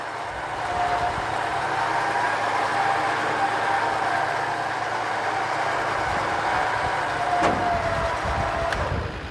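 A modified Toyota Prado engine roars steadily under full drive in first gear with the handbrake on, a loud, sustained drone that holds at an even level throughout.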